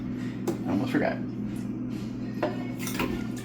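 Blades clatter and clink as they are set into a Ninja blender jar, with a few sharp knocks of plastic and metal at close range, under a steady appliance hum and with a voice talking.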